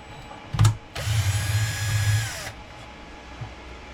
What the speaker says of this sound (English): We're going to take these screws out here